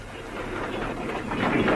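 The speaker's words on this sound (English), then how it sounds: "I think the train's coming. Thank goodness. You're right. It's just coming round the bend." A train approaching round a bend on a railway line, a low rumbling roar that grows gradually louder over a short moment, heard alone without talk.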